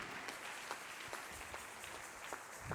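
A church congregation applauds during a Sunday service, with faint, distant clapping and scattered louder claps repeating over a few seconds.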